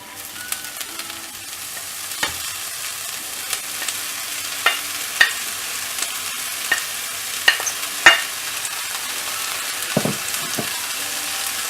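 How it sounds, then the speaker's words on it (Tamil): Ponnanganni (dwarf copperleaf) greens fry with onions in a pan, a steady soft sizzle broken by occasional sharper scrapes and clinks as the mix is stirred, close up and without talk. "நல்லா ஃப்ரை பண்ணிடலாம்."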